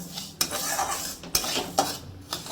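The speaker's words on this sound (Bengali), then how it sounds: "চালটা যদি একটু নাড়াচাড়া করে নিয়ে এইভাবে করে একটু হালকার উপরে" Rice coated in ghee is stirred in a pot with a metal spoon for Bengali vegetable khichdi. Gentle scraping and shuffling are broken by a few sharp clinks of utensil against the pot. A faint sizzle sits underneath, and no one speaks.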